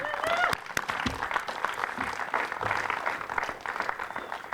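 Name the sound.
audience applause at ribbon-cutting ceremony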